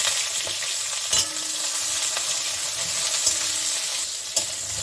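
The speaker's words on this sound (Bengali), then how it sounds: "এই বেগুনটাকে একটু ভেজে নিচ্ছি।" Eggplant frying in oil in a pan makes a constant, close hiss, with occasional sharp crackles and spatters and no talk over it.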